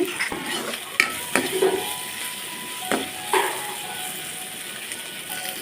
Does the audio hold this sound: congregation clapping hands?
no